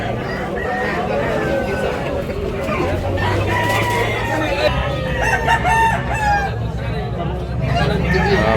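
A rooster crows amid a crowded gamefowl sale, where a young grey cock about one year old is being offered; the crow rises over constant nearby chatter and murmuring from buyers.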